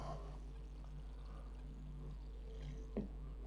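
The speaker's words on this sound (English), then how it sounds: "grab yourself some water and then water the plant in" Water poured onto a freshly potted plant in a garden, a faint steady trickle over a low constant hum, with a small knock near the end and no talking.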